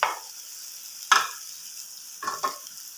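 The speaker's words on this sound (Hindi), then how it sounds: "अब मैं इस कीमे की अच्छी तरह जो है इसकी भुनाई करूँगा ताकि कीमे को पका लूँ अच्छी तरह" Minced meat (keema) frying with spices in a pan for a Punjabi keema karela dish: a steady sizzle underneath, with a sharp spoon scrape near the middle and two quick scraping strokes toward the end.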